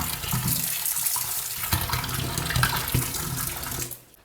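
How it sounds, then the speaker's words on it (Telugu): Running tap water pours steadily as mushrooms are washed under it, a close splashing flow with small knocks that fades out at the end. "ఫస్ట్ కట్ చేసే ముందు శుభ్రంగా అన్నీ కూడా వాష్ చేసుకోవాలి"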